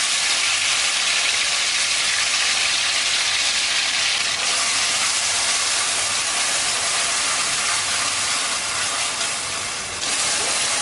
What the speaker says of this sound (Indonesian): Kita siapkan wajan dan sedikit minyak. Kalau sudah panas, kita akan tumis bumbu halusnya.